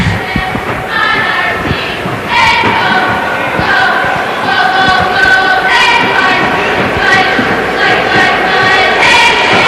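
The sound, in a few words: hockey crowd responding to cheerleaders' cheer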